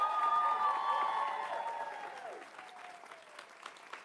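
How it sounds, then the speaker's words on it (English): Audience applause fills a hall at a college quiz tournament semifinal, a dense burst of clapping that starts loud and gradually tapers off over a few seconds, with some tonal sound and crowd noise layered in at the start. "Give them another round of applause."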